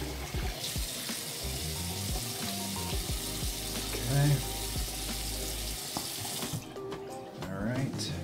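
Cold tap water running into a sink to rinse a razor, a steady close splashing stream with shifting gurgles as the blade passes through, and a brief spoken word over it.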